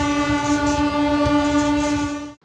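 A train on the rail route into Kerala sounds a long, steady horn blast at close range, holding level before cutting off abruptly, with a low rumble of the train underneath.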